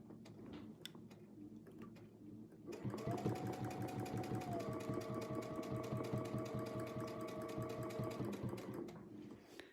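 A sewing machine stitches at steady speed during free-motion quilting. It starts abruptly after a quieter stretch of handling noise and then runs as a continuous, close, rhythmic whir with a fast mechanical clatter throughout.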